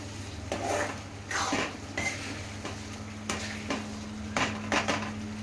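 Mutton keema fries in a pan, giving a soft continuous sizzle over a low steady hum, broken by scraping stirs and light metallic clinks of a spoon against the pan.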